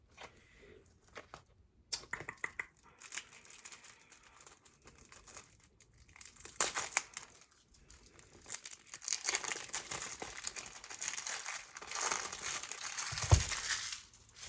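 Cardboard and plastic packaging of a tarot card box being opened by hand, intermittent close crinkling, tearing and rustling that grows denser and louder toward the end, with no talk.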